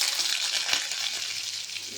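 Potatoes and pointed gourd frying in hot oil with panch phoron and green chillies, a steady close hiss and crackle that runs throughout without a break.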